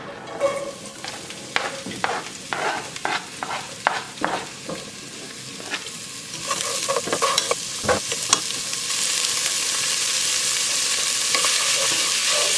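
Onions fry in a pan, with a series of sharp spatula taps and stirs early on, then a bright continuous sizzle that grows louder and fills the end, with no voices.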